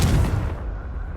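A Confringo spell explosion in Hogwarts Legacy: one loud, sharp blast up front that rolls off into a rumbling decay, with no voices.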